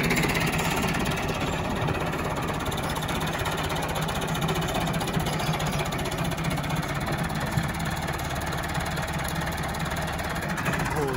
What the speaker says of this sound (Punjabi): ਇਹ ਤਈਬ ਚੌਧਰੀ ਸਾਹਿਬ ਟਰੈਕਟਰ ਸਟਾਰਟ ਕਰਨ ਲੱਗੇ ਨੇ